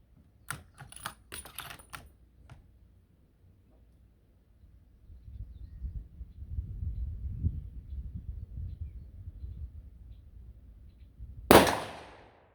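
A 6.5 Creedmoor rifle fires a 145-grain Barnes Match Burner handload over IMR 4166 powder. One sharp, loud shot cracks near the end, after faint clicks and a low rumble.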